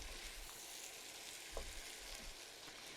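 Cauliflower frying in a pan for mixed vegetable bhaji, a steady faint sizzle with occasional soft stirring clinks and no talk.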